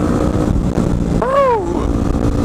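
A motorcycle with a newly fitted loud aftermarket exhaust being ridden on a bumpy road, its engine a steady, close, rumbling drone with one brief rising-and-falling tonal swoop in the middle.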